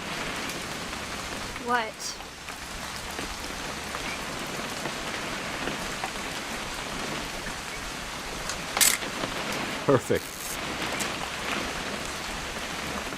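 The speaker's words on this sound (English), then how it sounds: "It's gonna rain the whole weekend, isn't it?" Steady rain pattering on surfaces in the video game What Remains of Edith Finch, a constant wash of drops under brief spoken lines and a few sharp clicks and tones.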